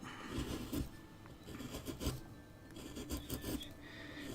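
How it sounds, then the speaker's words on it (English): A wood-carving chisel is sharpened with steady rasping, rubbing strokes that repeat in an uneven rhythm, moderately quiet and close by, with no talking. "You will see me sharpening chisels quite a lot whilst I do this."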